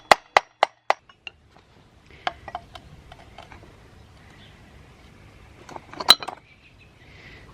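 A tool is struck repeatedly to free the engine flywheel on a 1950s David Bradley chainsaw: four sharp close metallic hits in quick succession, then scattered lighter taps and a final cluster of clanks.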